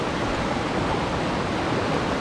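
Steady, even rushing of a waterfall in Thailand, a broad continuous wash of falling water heard alone at moderate volume without any break or variation.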